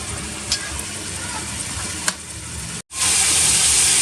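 Tomatoes sizzle in a frying pan while ginisang monggo is sautéed, a steady close hiss with a few light stirring clicks, broken by a brief dropout before the frying noise comes back brighter and louder.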